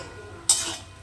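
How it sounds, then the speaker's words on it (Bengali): Fish curry masala of cumin, turmeric, chilli and coriander powders is stirred in a pan, giving a single sharp metallic scrape about halfway through that fades quickly in a quiet kitchen. "মাছের মশলাটাকে আমি ভালো করে কষিয়ে নিচ্ছি"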